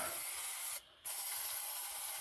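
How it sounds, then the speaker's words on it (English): An aerosol can sprays chain lube in a steady hiss, close up, while a brush hog is hooked up, broken by one brief pause before the spraying resumes. "I'm going to spray all around that right there"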